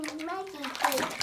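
Water splashing in a foot spa, light sloshing and dripping under a child's high-pitched talking, close by and indoors.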